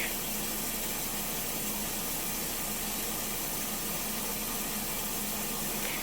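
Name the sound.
washing machine agitator running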